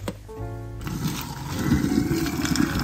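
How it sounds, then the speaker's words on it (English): Boiled water is drained off orange peels in a kitchen, a rushing pour that follows a brief hum and builds into a steady, rough splashing stream, close and fairly loud. "So we're gonna drain this water off."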